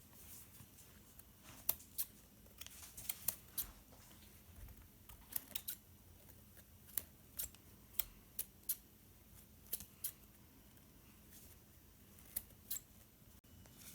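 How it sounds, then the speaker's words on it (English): Scissors snip a cleaning brush sponge into a rounder shape, with sharp, quiet cuts coming in irregular bursts over a faint background hiss. "We're going to trim the sponge into a more rounded shape."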